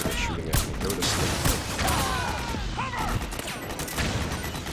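Rapid gunfire from the video game Metal Gear Solid 4: Guns of the Patriots crackles in dense bursts throughout, mixed with mechanical clatter and whooshing effects.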